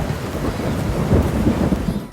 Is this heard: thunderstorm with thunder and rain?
yes